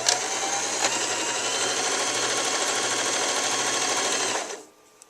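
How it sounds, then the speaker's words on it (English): A sewing machine runs a continuous fast stitch along a pillowcase seam for about four seconds, loud and steady, then stops abruptly. "From here, we are going to sew up 5/8. Don't forget to backstitch."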